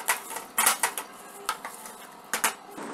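Puffed rice is tossed into hot jaggery syrup in a pan, a series of sharp spoon-on-metal clinks and scrapes in irregular bursts, fairly quiet and close, with no one talking.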